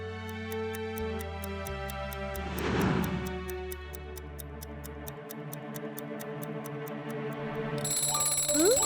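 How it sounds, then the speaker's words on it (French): A cartoon alarm clock rings with a rapid, steady metallic tick-like pattern over music and background tones, going on for several seconds and loud in the mix. "Le réveil sonne."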